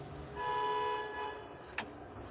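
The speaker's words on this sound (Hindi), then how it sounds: "अरे देखिए हॉर्न भी बजा दिया" A single sustained car horn tone from a driving simulator sounds for about a second over a low rumbling background, followed by a short sharp click.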